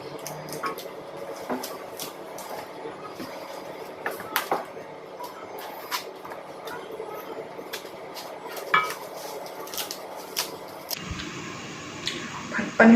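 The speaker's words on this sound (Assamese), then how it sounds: "মই কাটি লওঁ লাওৰ আগখিনি" A knife cutting bottle gourd shoots in a home kitchen, light scattered chops and scrapes with soft clinks of utensils and pots, fairly close, while someone talks quietly.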